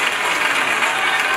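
Wedding guests at a Congolese civil marriage celebration applaud steadily in a dense, continuous wash of clapping that fills the brief moment without a break.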